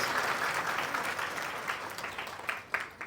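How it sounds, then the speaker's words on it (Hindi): Audience at a Gaur Purnima devotional gathering applauding, a dense wash of many hands clapping that thins out toward the end, leaving a few louder individual claps. "तालियां हो जाए उनके लिए"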